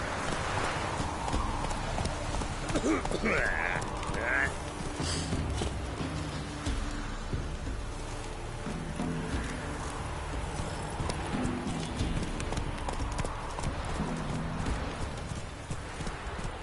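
Roach, a horse in The Witcher III video game, galloping with a steady rhythmic clip-clop of hooves, moderately quiet, plus a brief whinny-like cry and faint creaks.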